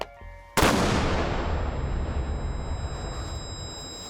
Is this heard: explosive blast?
yes